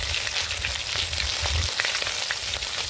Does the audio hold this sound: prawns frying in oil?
yes